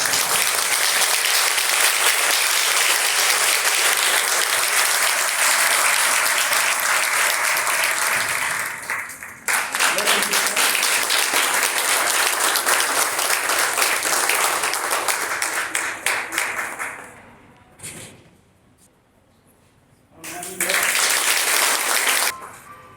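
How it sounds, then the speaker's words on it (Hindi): An audience at an NCC girls' battalion event at a women's college in Lucknow stands and applauds loudly. Dense, sustained clapping fades for a few seconds, then surges again. "खड़े होकर अपने स्थान पर जोरदार तालियां बजाएं।"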